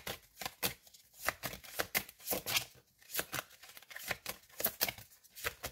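Oracle bestiary cards are shuffled in a steady, rapid riffle of crisp papery flicks, bursts coming about every half second, close and fairly quiet with no voices.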